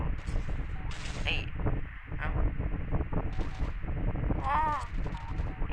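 Gunshots in the MilkChoco shooter video game crack out in short scattered bursts over busy game sounds and music, with a player talking excitedly throughout.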